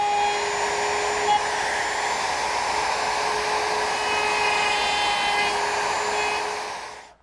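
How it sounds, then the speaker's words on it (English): A woodworking router with a dovetailing bit mills dovetail tails, giving a steady, loud, high-pitched whine that holds evenly throughout and then spins down at the very end. "I'm going to mill all the tails first."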